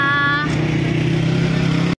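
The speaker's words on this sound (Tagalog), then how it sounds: "Kaya medyo traffic na." Road traffic with vans and taxis in a city, a close, steady engine hum with a tonal whine at first, holding level for two seconds before cutting off abruptly.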